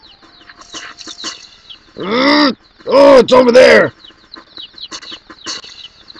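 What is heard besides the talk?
chickens clucking in The Legend of Zelda: Majora's Mask video game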